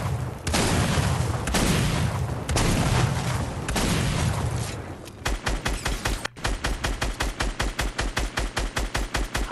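Grenade launcher blasts in Fortnite, first a few long booming explosions, then a fast rhythmic string of punchy shots and impacts repeating evenly, loud and close.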